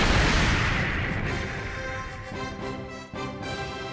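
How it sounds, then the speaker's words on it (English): A loud in-game explosion in an Evangelion fighting game, a dense booming roar with rumbling, crackling debris that starts strong and slowly fades, alone with no talk. "That explosion knocked Shinji up into the air."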